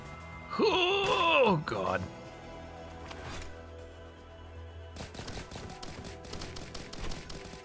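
Gunfire in the Risk of Rain Returns video game plays as a cluster of rapid shots and bursts, mixed with in-game effects and a player's voice, loud at first and then continuing as quieter scattered shots.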